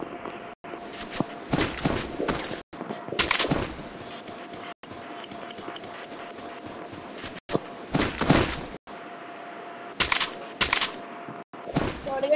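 Rapid bursts of gunfire from a shooting video game with a shotgun and UMP, loud clusters of shots separated by brief silent gaps, with faint footsteps and mechanical clicks between volleys.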